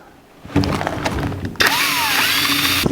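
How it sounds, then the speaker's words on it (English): A power drill starts up, whirs briefly, then bites in louder with a high, wavering whine as it bores through the metal housing of a WEN AF1270 shop air filter, running steadily to the end. "Drill holes where we punched out"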